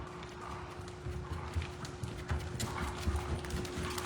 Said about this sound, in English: it's easier for some of these horses to have a longer spot to get into the canter